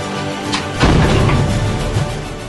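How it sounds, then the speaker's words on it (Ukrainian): A single heavy artillery shot from a 2S1 Gvozdika 122 mm self-propelled howitzer booms out, a sharp blast followed by a rumbling tail that fades over a couple of seconds. "Витрата один! Постріл!"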